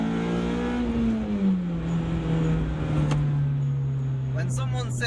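A naturally aspirated VTEC engine in a Honda Civic Type R EP3 revving hard past 8,000 rpm, a loud, sustained high-pitched wail that sags slightly in pitch, heard up close.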